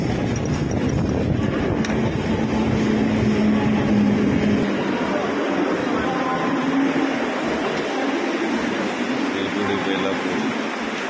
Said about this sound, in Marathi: ही जी लोकल आता गेली ती CSTला जाणारी लोकल आहे.